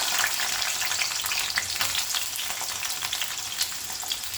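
Onion, green chili and curry leaves frying in hot oil for tomato rice, a steady dense sizzle with crackling pops throughout, fairly close and alone with no voices.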